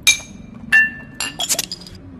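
Several sharp glass clinks and rattles from drinkable, cap-peeling glass bottles handled in the VR game Bonelab, bright and close with short pauses between the knocks.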